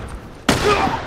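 A single sharp gunshot impact in The Last of Us video game, sudden and loud after a quiet moment, followed by a brief ringing decay.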